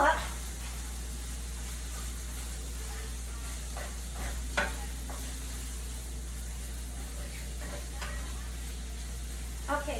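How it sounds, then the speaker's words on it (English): Meat fries in a pan with a steady, quiet sizzle, broken by a few scraping stirs from a utensil. "while this is frying up the meat"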